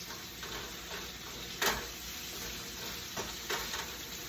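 Sweet potatoes and green beans saute in grapeseed oil with a soft, steady sizzle, broken by a few brief scraping stirs from a utensil in the pan.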